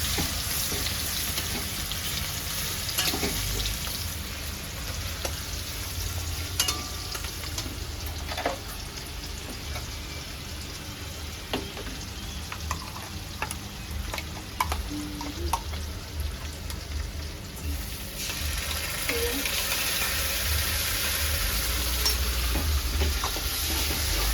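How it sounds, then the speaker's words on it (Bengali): Spice masala and chicken pieces sautéing for chicken biryani, a steady loud sizzle with repeated scraping stirs and clinks of a spatula in the pan, continuing throughout with no talk. "মশলা কষে মাংসগুলো আরেকবার করে কষে নেবো"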